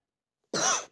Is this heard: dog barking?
no